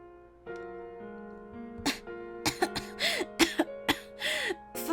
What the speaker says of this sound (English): Father, I can't stop coughing.